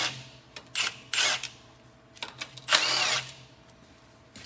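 Power tool spinning out 10 mm transmission pan bolts on a 1989-2004 Ford truck with an E4OD/4R100 transmission, in several short loud bursts separated by pauses, close up.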